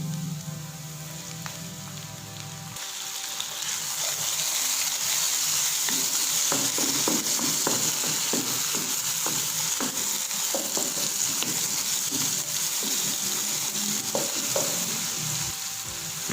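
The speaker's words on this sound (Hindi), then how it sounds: "प्याज थोड़े से फ्राई हो जाएं तो साथ ही टमाटर और मिर्ची डाल दूंगा।" Onions sizzle steadily in a pan, a close, continuous bright frying hiss with occasional stirring clicks and scrapes, no talk.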